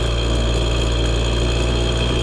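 A KTM 50 two-stroke dirt bike engine idles steadily, a loud, close, constant buzzing drone with an even pulsing beat and no change in pitch.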